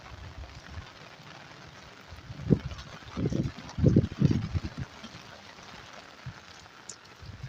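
Heavy rain pours over a village, a steady broadband hiss of water throughout, with a few louder low bursts of nearby activity in the middle.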